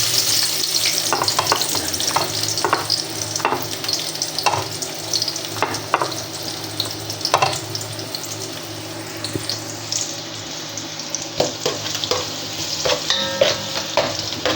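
Garlic sizzles in a pan for chicken kinamatisan, a loud continuous frying crackle broken by repeated scraping stirs and clanks of a utensil against the pan.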